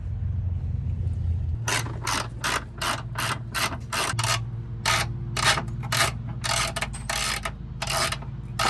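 Rapid bursts of ratcheting clicks from a hand ratchet loosening bolts under a Mk6 VW Jetta SE 1.8L TSI, the quick strokes coming in repeated runs close by over a steady low hum, with no talk.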